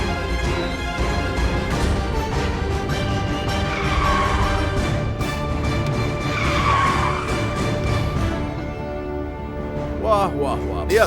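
A car skids with drawn-out tire squeals during a chase as another vehicle is cut off, loud and close, with dramatic music and voices over it.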